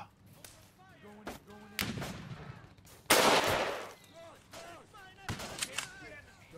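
Gunfire in the video game Easy Red: a string of sharp shots, one especially loud blast with a long rumbling tail, scattered around speech from a player.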